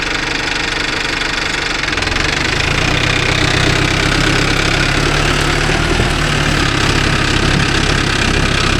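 A Mahindra Arjun Novo 605 DI tractor engine runs loud and close in a steady, knocking diesel drone that holds unbroken throughout, heading out to crop-cutter harvesting.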